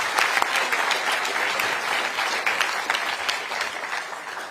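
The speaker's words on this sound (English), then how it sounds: "let's give Adam a round of applause." A crowd at a political event gives sustained, dense applause, the clapping even and loud throughout with scattered sharper claps standing out.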